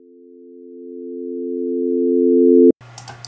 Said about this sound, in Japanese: 上が24ビットのフェードインしてくるシンセサイザーの音のファイル